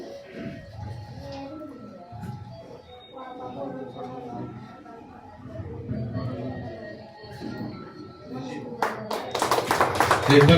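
Audience applause at an award ceremony honouring unorganised sector workers in India, breaking out loudly near the end after someone speaks into a microphone.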